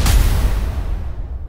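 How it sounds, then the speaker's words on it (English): A deep boom sound-effect sample fired from a software sampler hits hard and loud at once, a thick low rumble that spreads wide and fades slowly over a second and a half, with no voices. "And then also a few boom samples."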